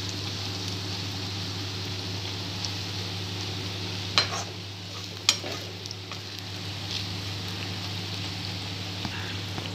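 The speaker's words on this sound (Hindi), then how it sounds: "ऐसे ही हम सारी भिंडी को फ्राई कर लेंगे।" Okra frying in a pan over a medium gas flame gives a steady, even sizzle with occasional light clinks of stirring, no voices.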